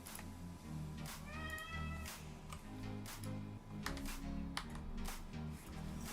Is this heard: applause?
no